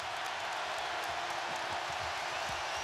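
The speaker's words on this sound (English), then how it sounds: "Crowd erupts at Rupp." Basketball arena crowd at Rupp Arena cheering during a Kentucky vs Tennessee college game, a loud, dense continuous roar throughout.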